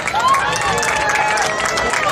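Audience applause at a handball trophy ceremony, steady, dense clapping from a crowd throughout with some cheering mixed in.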